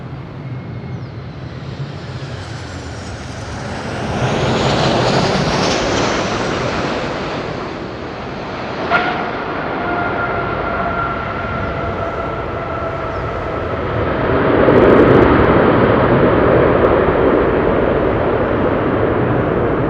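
Airliner engines roaring in reverse thrust just after touchdown on the runway at Madeira Island Airport, a broad loud rumble that swells, holds with a steady whine, then surges again near the end, heard alone without talk.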